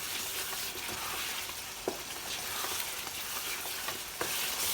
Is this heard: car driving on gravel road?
no